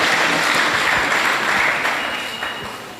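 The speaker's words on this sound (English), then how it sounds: "Can we give her a round of applause?" Audience applause at a Red Cross summer camp event in Kombo Central District, a dense sustained clapping that fills the hall and slowly fades toward the end.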